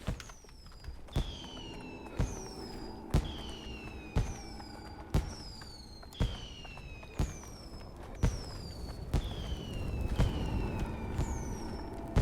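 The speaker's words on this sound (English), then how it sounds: "I really regret letting off those fireworks." Fireworks go off in the video game Pathologic 3, about a dozen sharp bursts at a regular rhythm of roughly one per second, each with a descending whistle, over a low background.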